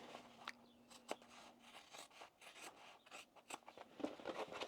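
Scissors cut through fabric for a messenger bag with a rasping, crunching rhythm of close, quiet snips and rubs, steady throughout and with no talk.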